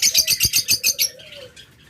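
Lovebirds in a bird-shop collection chirp in a quick, evenly spaced run of bright, close calls that trails off into quieter twittering and soft background bird noise.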